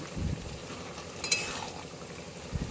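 Tender eggplant pieces frying in hot oil in a home kitchen, a faint steady sizzle with a couple of soft stirring scrapes and a light metallic clink.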